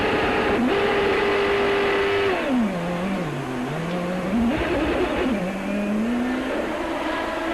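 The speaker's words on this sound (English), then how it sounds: "On board with Dominguez. That last downshift got the rears locked up." Onboard Champ Car race car engine from a 2003 Denver street race, a loud, continuous, high-pitched scream whose pitch drops sharply through downshifts and then climbs again under acceleration.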